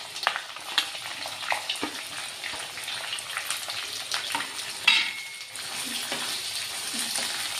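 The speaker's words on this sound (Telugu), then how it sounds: "బిర్యానీ ఆకు, జాపత్రి వేసి కొంచెం ఫ్రై చేద్దాం." Bay leaf and mace frying in a pan for a veg biryani, with a continuous crackling sizzle, occasional stirring clicks and a brief louder burst midway.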